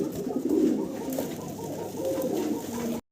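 Several satinette fancy pigeons coo in a steady low murmur, the soft throaty calls close and continuous throughout, with no voices over them.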